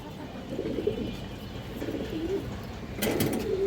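Pigeons coo in soft, low repeated calls at a Bangladeshi pigeon sale, with rustling and a brief brighter burst of wing flutter near the end, all at moderate loudness.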